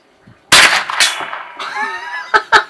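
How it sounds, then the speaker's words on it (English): A single sharp gunshot cracks loudly at a rusted can in the abandoned desert mining town of Panamint City, followed by ringing metallic clangs and two short pops that fade out. "The last rusted can is going to be shot by Andrew Perry."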